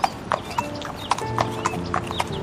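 Cartoon horse hooves clip-clop in a steady galloping rhythm, close and clear, with a brief whinny-like tone mixed in as a king rides through a forest.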